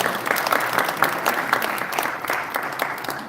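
An audience at a church pastors' seminar applauds as a pastor comes forward to speak, producing loud, sustained clapping from many hands with a crisp, even texture throughout.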